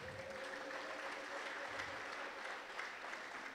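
A church congregation applauding during a sermon, soft distant clapping spread steadily across the room, faint and continuous throughout.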